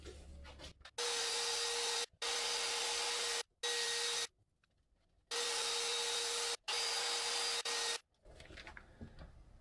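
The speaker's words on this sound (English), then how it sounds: "Dry sanding." A sanding disc dry-sands scratched glass in loud, steady bursts of harsh grinding with a constant whine, stopping and restarting about five times with quiet gaps between.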